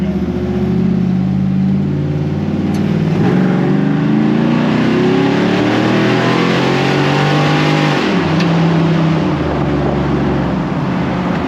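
An LS-swapped Humvee engine roars on a dyno, loud and close, its pitch climbing steadily through a long pull, dropping at a gear change and climbing again, with a continuous heavy drone throughout.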